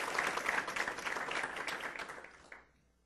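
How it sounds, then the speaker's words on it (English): Audience applause for Julie at a State of the City address in Berkley, a dense wash of many hands clapping steadily, then tapering off and fading to quiet near the end. "I think we should all give her a round of applause."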